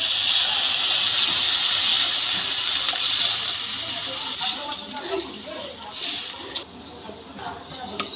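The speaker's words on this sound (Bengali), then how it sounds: "এবার জল দিয়ে দেব।" Water poured into a pan of fried potatoes and figs cooked in spices for a vegetarian fig curry, making a bright rushing hiss that fades to softer bubbling, with brief utensil knocks.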